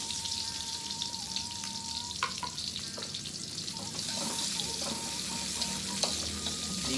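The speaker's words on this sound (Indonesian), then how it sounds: "Digoreng dugikeun ka seungit" Shallots, garlic, bay leaf and lemongrass fry in hot oil with a steady close sizzle, broken by occasional clicks and scrapes of stirring, and no talk.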